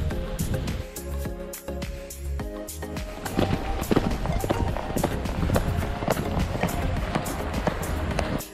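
Hooves clip-clopping at a steady walking pace, several horses moving together on a beach at a Los Cabos resort, over a continuous outdoor background, with faint voices mixed in.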